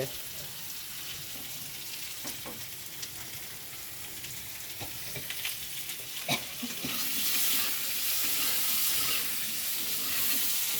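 Cabbage curry frying in a pan, a soft continuous sizzle with scattered stirring clicks that swells into a louder hiss near the end.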